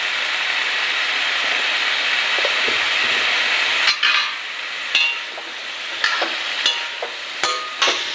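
Soybean and mixed vegetables stir-fried in a pan for an Assamese chutney, a broad steady sizzle with intermittent sharp spatula clicks and scrapes in the latter half.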